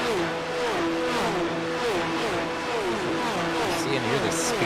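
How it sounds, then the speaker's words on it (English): Porsche Cup race cars at top speed in a sim race at Brazil, climbing toward the Senna S braking zone, engines wailing with repeated rising and falling gear-change sweeps as several cars pass close, loud and continuous. "See and hear the speed of these cars as they're just coming to the top speed, going down into the braking zone of the Senna S"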